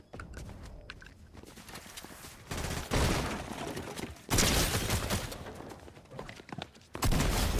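Fortnite gunfire in rapid bursts, dense crackling volleys that start and stop in loud clusters, close and prominent with brief gaps between salvos.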